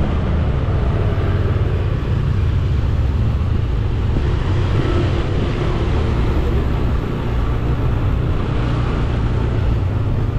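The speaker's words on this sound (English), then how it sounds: "let's keep continue driving on Kubu Anyar Street, the back street of Kartika Plaza Street" A car drives along Kubu Anyar Street, a back street in Kuta, Bali, giving a steady, continuous engine and road rumble from inside the vehicle with no breaks throughout.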